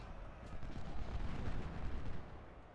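Civil War artillery guns firing in a strategy battle game, a dense rumbling barrage of low booms rolling together for a few seconds, fairly distant and muffled.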